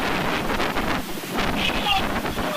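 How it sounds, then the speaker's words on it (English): Strong wind buffets the microphones at an outdoor high school baseball game, a continuous rumbling roar that swells and dips, with a faint voice briefly under it. "I'm sure, folks, you can hear the wind through our microphones"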